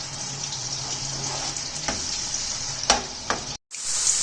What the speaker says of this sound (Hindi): तो इधर ये मेरा ऑयल गरम है। अब मैं इसके अंदर इसको फ्राई करूंगी।